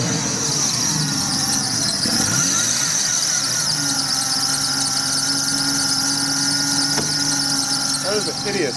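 A Jeep XJ engine idles nearby with a loose fan driving a loud, continuous high-pitched squeal. The squeal shifts in pitch over the steady engine drone, and voices can be heard talking over it.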